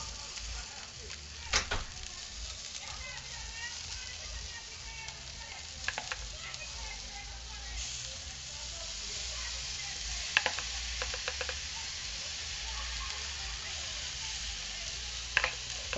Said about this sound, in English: Still working on basting these onions.